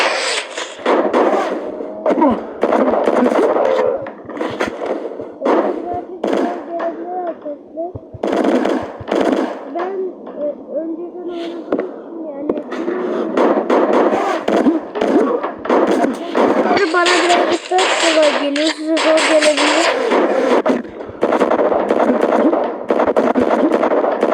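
Machine gun fire in a video game rattles out in dense, repeated bursts, loud and close, with someone talking over much of it.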